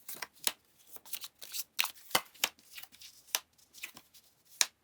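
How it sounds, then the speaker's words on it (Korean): Tarot cards are shuffled and drawn in a quiet room: a close, steady run of crisp riffling and snapping card sounds with short pauses between the bursts, and no voices. "그러면 금전운을 올리기 위한 좋은 카드를 뽑아볼게요."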